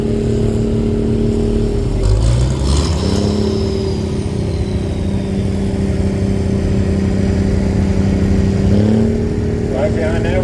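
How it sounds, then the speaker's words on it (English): A 1976 International 1466 tractor rolls past in a parade, a loud, steady mid-pitched diesel drone with slight pitch shifts as it moves, under ongoing talk from a commentator. "Here's a step tractor from Sydney. 1976 International 1466 Rider."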